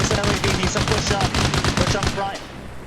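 Rapid automatic gunfire in Arma Reforger, a fast, loud burst of close shots in quick rhythmic succession that runs for about two seconds before tailing off into quieter echo.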